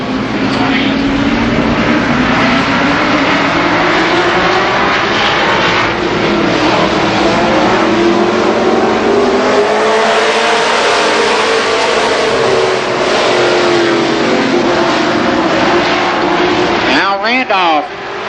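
Race cars at Columbus Motor Speedway during the 1990 Superstar Shootout roar past in a loud, continuous pack, engines rising and falling as they circle, with a voice talking over the din.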